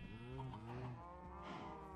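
A Minecraft cow gives a single drawn-out moo, close and clear with no other sounds around it.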